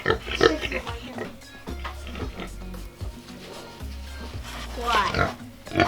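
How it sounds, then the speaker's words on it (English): Pigs lined up sunning themselves outdoors grunt and oink repeatedly in low, close, uneven bursts, with a person talking over them in places. "Pigs in a row."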